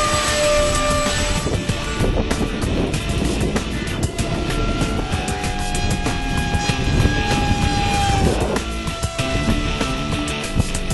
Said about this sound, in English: here goes John with the second flight